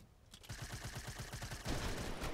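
Rapid bursts of automatic gunfire from the video game Fortnite, about a dozen evenly spaced shots in quick succession, fairly loud and close, with a brief denser volley near the end and no talk.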